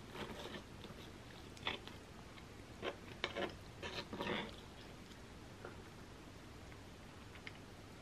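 Someone bites into and chews a gooey vegan birthday cake pizookie, with soft crunches and a few louder bite clusters close to the mic, then quieter chewing.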